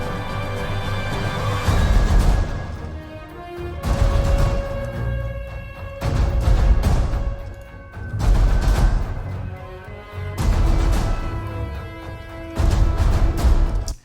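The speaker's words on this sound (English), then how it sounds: "So that's the big percussive part." A virtual orchestra plays its big percussive section, with heavy booming hits recurring in dense, roughly two-second swells over a sustained orchestral backdrop, loud and alone.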